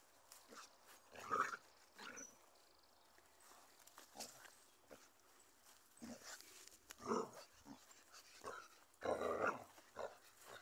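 Puppy scuffling and playing with a ribbon, with soft thumps and brief bursts of movement between quiet pauses, close by and fairly faint.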